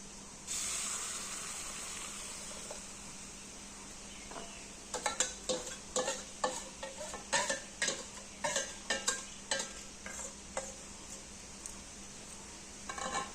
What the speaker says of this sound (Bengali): এবার এই পেস্টটা কড়াইয়ের মধ্যে আমি ঢেলে দেবো